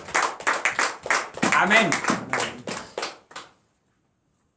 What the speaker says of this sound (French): Donnons l'acclamation à ce frère.